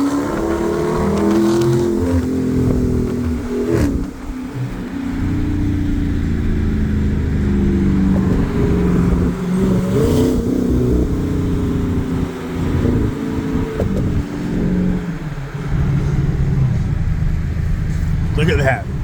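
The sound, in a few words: car exhaust note while revving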